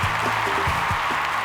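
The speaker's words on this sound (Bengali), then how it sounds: "তার জন্য একটা জোরদার হাততালি" Steady audience applause for a singer on a televised singing competition stage, a continuous wash of clapping throughout the short stretch with low thumps mixed in.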